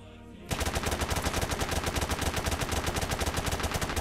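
Rapid automatic gunfire from the video game PUBG bursts in after a brief quiet start, a loud, steady stream of shots hammering on to the end with no pauses.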